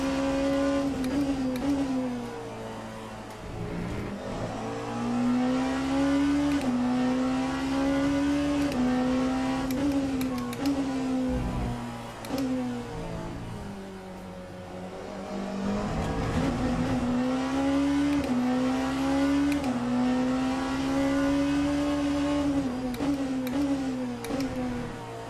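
A hypercar engine in Le Mans Ultimate races steadily, its loud, close whine rising through the gears, dipping as it shifts down for corners, then climbing again with no voices.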